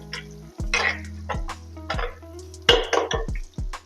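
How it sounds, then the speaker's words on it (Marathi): A spoon stirs an onion and tomato mixture with butter in a metal pan for butter chicken, scraping and clanking in several short strokes with a soft sizzle underneath, close and alone. "त्यामध्ये हे कांदा टोमॅटो मिक्स करायचं आणि त्याला एकदा फिरवून घ्यायचं."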